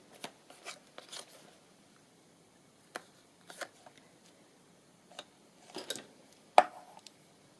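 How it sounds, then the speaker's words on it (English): Scissors trim paper for a forest-themed accordion journal, making soft snips and crisp cuts in irregular bursts with quiet pauses between them. The sharpest cut comes near the end. "I'll just take a bit off the top and then see where the bottom needs to be cut"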